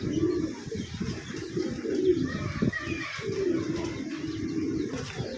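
A pair of racer pigeons coo close by in a steady, overlapping murmur of soft throaty calls, with a few light chirps running through the whole stretch.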